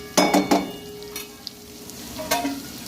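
Stuffed bitter gourds frying gently on a low flame, giving a close, soft sizzle with a few quick bursts of stirring and scraping at the start and again near the end.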